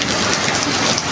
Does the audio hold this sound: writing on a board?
no